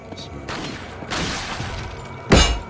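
A single loud gunshot bursts out in the Resident Evil 4 video game, sharp and close, after stretches of rustling in-game noise.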